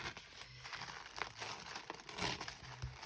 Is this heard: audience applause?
no